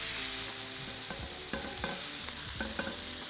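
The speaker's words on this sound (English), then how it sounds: "Cook that together for about 5 to 10 minutes until the onion is nice and soft." Onions and garlic fry in a pan with thyme and celery salt, a steady close sizzle running under repeated scraping and clinking stirs.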